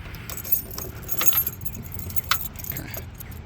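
Keys jangle and scrape against the door lock of a 1959 Ford Thunderbird in several short metallic bursts, close up, with faint background noise.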